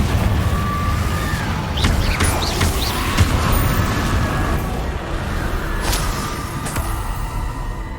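A Confringo fire spell explodes in the video game Hogwarts Legacy, a short blast with a few sharp pops over a dense, steady rumble of game noise.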